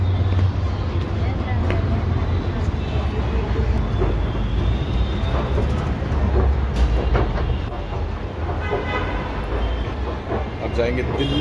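A Delhi Metro train runs with a continuous loud rumble and rolling noise that holds steady throughout, with faint clicks over it.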